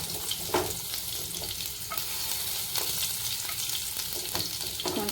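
Chopped ginger and garlic frying in a little oil in a non-stick pan, with a dense, continuous sizzle and occasional light scrapes of a spatula.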